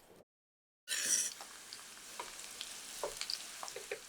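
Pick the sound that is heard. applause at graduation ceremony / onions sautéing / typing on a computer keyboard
onions sautéing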